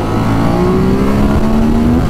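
A Ducati Monster 1200 motorcycle accelerating hard, its loud, close engine tone rising steadily in pitch over two seconds under heavy wind and road roar.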